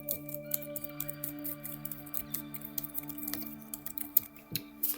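Keys clatter in quick, uneven bursts on the keyboard of an Asus ROG Strix Scar 18 gaming laptop, close and fairly quiet over a steady electronic hum.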